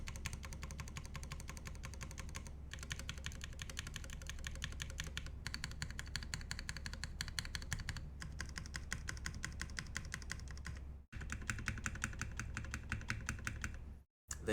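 Keyboard stabilizers on a KFE mechanical keyboard are pressed in rapid, close clacking runs, dozens of quick keystrokes in bursts separated by brief silent pauses, with no voices.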